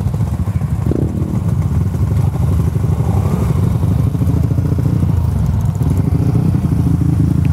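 Motorcycle engine revving hard at a fast street-bike gathering in Bacolod, a loud, steady, rough drone with crackle that holds close for the whole stretch, with no clear pauses.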